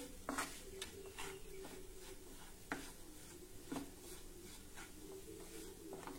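A spoon stirs vatli dal, a coarse ground lentil mixture, in a pan after sugar goes in, giving soft scraping strokes with occasional light taps against the pan, faint and alone.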